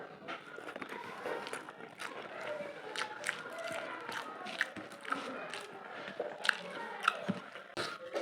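Crunchy, wet chewing of hot eggplant, soybean chunks and potato, with steady close bites and squishy mouth noises over a busy background of faint voices and movement.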